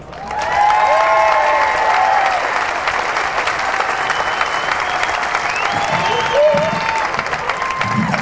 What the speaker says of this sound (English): I'm glad you all clapped because it gave me time to get the microphone down